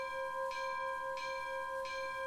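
LNER A4 locomotive bell in Train Simulator Classic, struck three times at an even pace, each clear ringing strike sustaining a steady metallic tone over a low background hum, with no voices.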